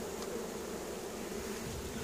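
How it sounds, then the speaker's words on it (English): Honeybees buzz in a steady, continuous drone around a hive being split outdoors, with bees spilling into the grass near a nucleus box; the hum is moderately loud and unbroken, with no talking. "quite a few bees have dropped in the grass here"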